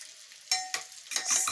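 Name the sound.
egg frying in pot with vegetables and prawn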